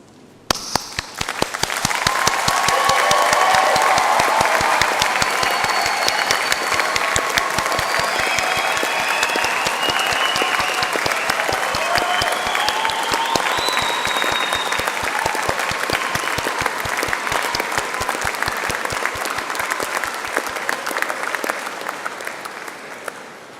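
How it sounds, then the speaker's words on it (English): A graduation audience applauds at length, a dense, sustained wash of many hands clapping that swells quickly, holds for around twenty seconds, and then fades out near the end. "join me in giving them a warm round of applause"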